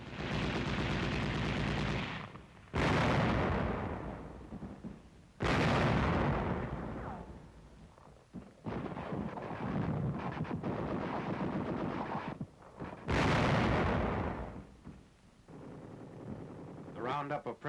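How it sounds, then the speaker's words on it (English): Tank guns firing on German strongholds during 1945 street fighting, heard as several loud, close blasts with echoing tails and scattered machine-gun bursts in between, all with no talking. "Tanks blast Nazi strong points."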